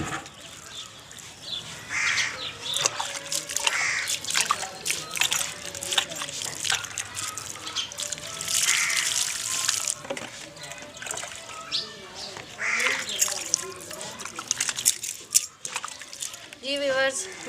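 Muddy containers and utensils being washed with water outdoors in a village setting, with trickling and splashing water throughout, crows cawing nearby and a person talking.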